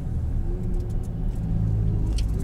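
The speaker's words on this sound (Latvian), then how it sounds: "Mazda baigi nesās pa kalnu tagad" Steady low rumble of a Mazda car climbing a hill at speed on an American road trip near the Hoover Dam and Las Vegas, loud and close, with a constant engine drone and road noise throughout.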